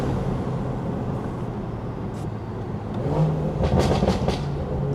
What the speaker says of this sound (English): Hold on, listen to the car real quick.